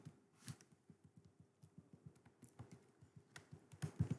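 Typing on a computer keyboard: a quiet, close, irregular stream of light key clicks and taps, with a few louder strokes near the end and no speech.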